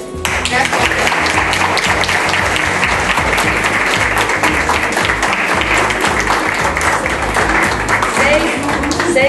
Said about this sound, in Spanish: se merecen un aplauso todos.